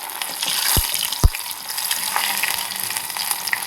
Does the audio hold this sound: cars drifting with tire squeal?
no